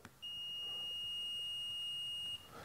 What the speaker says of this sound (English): you should hear that beep